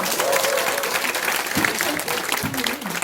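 An audience at a company lecture gives a round of applause, dense clapping throughout while a voice talks and sings out over it.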